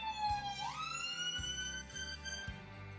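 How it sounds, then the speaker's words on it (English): An ambulance siren passing outside, faint and distant, its wailing tone sweeping upward then holding, under a low, rhythmic background pulse. "there's an ambulance just going by outside"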